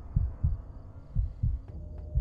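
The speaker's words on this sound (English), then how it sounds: "The heartbeat is..." A slow, thudding heartbeat pulses through the horror game Fears To Fathom: Carson House, its low double-thumps repeating at a steady rhythm, close and prominent over a faint ambient hum.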